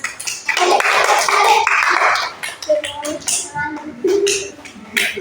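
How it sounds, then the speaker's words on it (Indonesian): Classroom of children clapping their hands together for a classmate's finished wayang puppet, a dense burst of claps that fades into scattered taps, with young voices talking over the end. "Baik, tepuk tangan."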